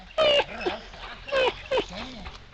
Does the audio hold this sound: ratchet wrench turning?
no